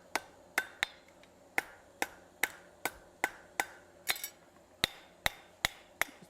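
Sharp, ringing hammer blows forging a metal hand towel bar, about a dozen distinct strikes in an uneven rhythm, close and loud, with no talking.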